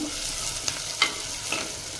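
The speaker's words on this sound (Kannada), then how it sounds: "ಇದು ಇನ್ನೂ ಪೂರ್ತಿಯಾಗಿ ಫ್ರೈ ಆಗುತ್ತೆ" A tempering of spices fries in a pan, a steady, soft sizzle under a few brief stirring scrapes and clinks, with no talking.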